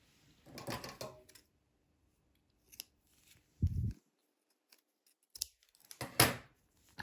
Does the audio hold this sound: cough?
no